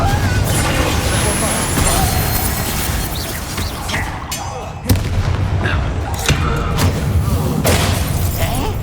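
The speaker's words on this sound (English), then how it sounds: "Confringo" In Hogwarts Legacy on PS5, a Confringo fire spell goes off amid combat, with loud, rumbling blasts and explosive impacts layered over dense game noise and a short sharp hit near the middle; a voice speaks over it.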